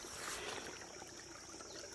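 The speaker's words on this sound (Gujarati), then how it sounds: "કેવું પાણીનો અવાજ આવે છે," Water trickles and flows steadily through an irrigation channel in a farm field, a soft continuous close-up gurgle with no voices.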